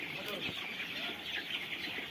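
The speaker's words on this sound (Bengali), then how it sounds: "এখন মুরগি খাবার খাচ্ছে, আবার খাবার খেয়ে জল খাচ্ছে" Sonali chickens on a poultry farm cluck steadily at close range while feeding and drinking, a continuous busy flock sound with no talk over it.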